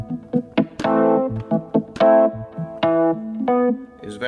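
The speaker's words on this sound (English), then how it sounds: "An electric piano sounds" An Artiphon Instrument 1 on its electric piano preset, struck keyboard-like notes and chords in an uneven rhythm with varying loudness, close and clear with no talking.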